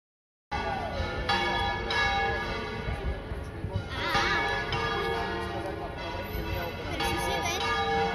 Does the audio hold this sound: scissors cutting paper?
no